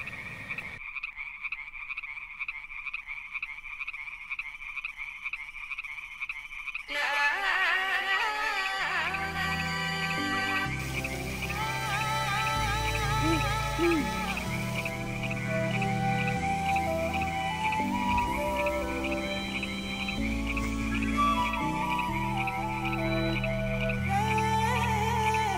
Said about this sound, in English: It's a cacophony of insects and toads and